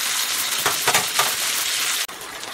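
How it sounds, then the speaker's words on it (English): Peppers and onions frying with pork chops in a pan, a steady loud sizzle with a few stirring scrapes, ending abruptly. "I'm just going to let that cook with the pork chops"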